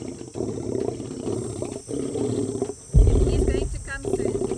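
Lions roar in Africa: deep, rumbling roars swell and break off repeatedly, loud and fairly close, with a heavy low surge near the end.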